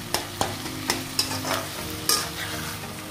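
Chopped lauki roasts over high flame in a pan, a steady soft sizzle broken by several sharp scraping stirs of a spoon, close up with no voices.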